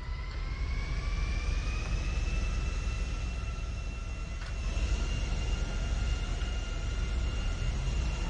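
A steady airplane engine drones in GTA V, a continuous jet-like roar with a whining tone that holds level throughout, loud and close with no voices.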